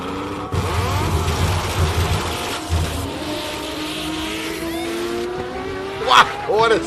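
A race car at the Simola hill climb in qualifying, its engine revving hard with rising and falling pitch as it passes close and loud, tyres squealing briefly, while commentators talk over it.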